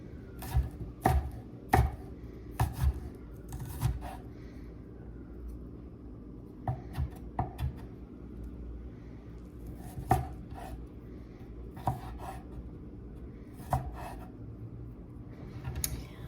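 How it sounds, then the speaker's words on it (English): Knife chopping meatball ingredients on a board, sharp clustered taps in short bursts separated by pauses, close and fairly quiet. "There is no technique. I chop it to where I want it to be."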